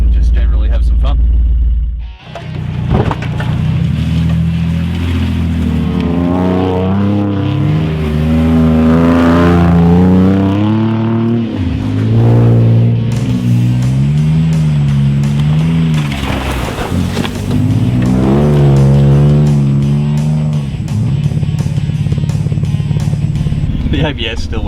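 A Ford Taurus is driven hard on a rough bush rally track, its engine revving loudly in rising and falling sweeps close up, with a voice talking over much of it.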